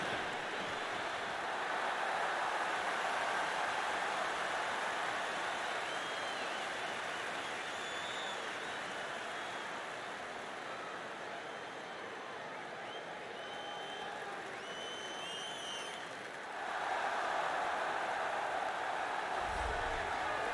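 Crowd noise from a UFC 3 video game arena as a fighter makes his walk out, a steady roar of cheering that holds throughout and dips briefly before surging again.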